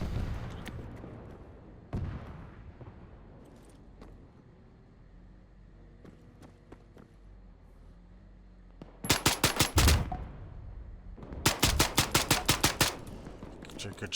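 Suppressed M3A1 SD .45 ACP submachine gun in Arma 3, heard as scattered single cracks followed by two rapid bursts of fire, loud and close, with no talking.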